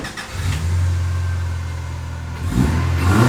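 A homebuilt rally car fitted with a cold air intake starts up and settles into a steady idle, then revs sharply near the end, loud and close with no talking.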